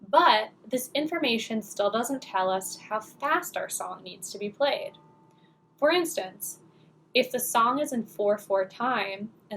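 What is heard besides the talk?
No everyday noises stand out.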